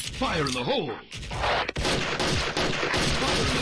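Rapid bursts of gunfire in the online shooter Special Force, loud and continuous with several sharp shots, while a player's voice talks over the start.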